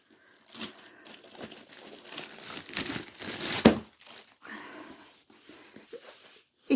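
A polythene bag holding a diamond painting kit crinkles and rustles up close in irregular bursts, with a louder crackle partway through and quieter handling noises between, with no talking.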